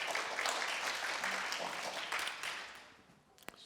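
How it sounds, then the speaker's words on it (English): Conference audience applause at a PyData data science meetup in Eindhoven, welcoming a speaker before a talk on compressive sensing; clapping is fairly loud at first, then thins and fades, ending with a sharp single knock. "So give a warm applause,"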